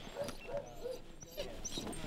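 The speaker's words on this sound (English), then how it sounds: "today we are going dog sledding with all of my brand new friends." Sled dogs at a winter dog-sledding outing in Lake Louise give short yips and high whimpers, several quick calls over a steady outdoor background, fairly near and moderately loud.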